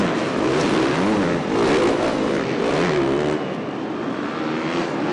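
Endurocross motorcycles racing at Las Vegas, engines revving and rising and falling in pitch as bikes accelerate past, loud and continuous with a slight fade toward the end.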